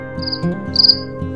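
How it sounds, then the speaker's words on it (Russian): A cricket chirps in two short, shrill trilling bursts over a quiet low background, close and fairly soft. "сверчок,"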